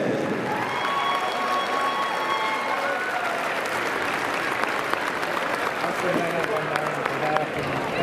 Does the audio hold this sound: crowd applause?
yes